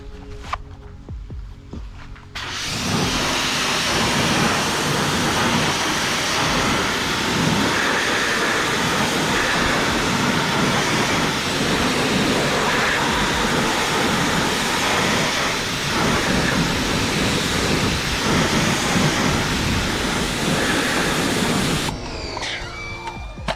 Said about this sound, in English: And then we'll rinse it off.